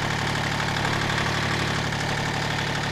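A motorcycle engine under load, recorded from a microphone on an open-face helmet, droning steadily and loud throughout with a constant mid-pitched hum and no break for a gear change.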